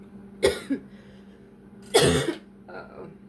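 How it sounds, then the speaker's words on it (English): Two sharp coughs and a softer third, close to the microphone, with quiet gaps between them. "Hold on, I have to cough."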